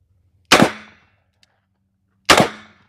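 Two sharp, loud gunshots come from a Henry Big Boy revolver firing .357 Magnum rounds at a range, spaced nearly two seconds apart. Each crack rings out briefly before fading into quiet, with no talk.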